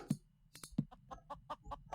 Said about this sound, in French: Bizarre, la poule elle meurt toute seule.